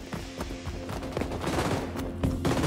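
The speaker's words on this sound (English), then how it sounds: "my gun just kind of glitched and started shooting" Rapid automatic gunfire from a glitching gun in the shooter game XDefiant, a dense continuous burst of loud, close shots without pause.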